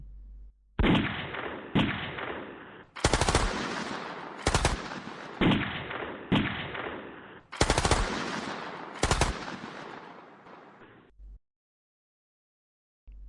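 Loud bursts of rapid gunfire with heavy booming explosions, repeating in waves before cutting to silence.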